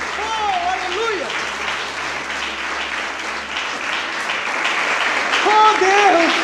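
A church congregation applauding steadily, dense clapping throughout, with a voice calling out over it at the start and end.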